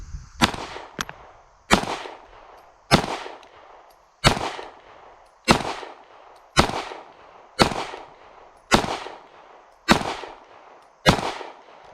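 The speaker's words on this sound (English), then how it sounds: "Got 10 rounds of the Remington range ammo loaded up" Ten pistol shots of Remington range ammunition fired through a handgun with a Gideon Rock optic at 25 yards, each a sharp loud crack with a short ringing decay, spaced at a slow, fairly even pace with quiet between them.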